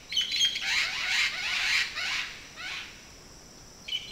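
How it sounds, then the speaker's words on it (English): Green parrots calling from the middle of a tree at Lago Yojoa, a run of harsh raspy squawks and chirps over about two seconds, then quieter calls and a final burst, moderately near with no talk. "there's a couple of green parrots right up here in the center of this tree. You can hear them."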